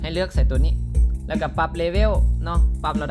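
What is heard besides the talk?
No everyday noise stands out behind the speech.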